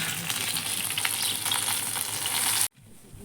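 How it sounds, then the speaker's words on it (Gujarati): Green chillies fry in hot oil with a loud, bubbling sizzle close by. The sound cuts off abruptly near the end, leaving a much quieter hiss. "અને હવે મરચાં લાવી હતી ને અત્યારે વાડીમાંથી, એ હવે તળી નાખું"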